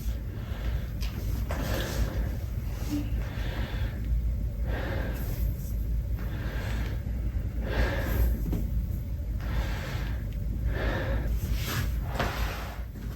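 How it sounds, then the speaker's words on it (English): A patient takes deep breaths in and out during a respiratory chest examination, a loud, close, airy rhythm of about half a dozen slow breaths repeating steadily with no talk. "Some deep breaths in and out for me."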